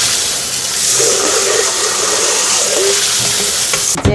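Washed rice being drained of its rinse water for bean sprout rice, giving a steady close rushing, trickling wash for about four seconds, then a brief clatter at the end.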